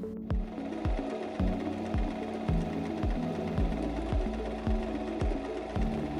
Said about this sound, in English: Pull the elastic taut from both sides as you sew.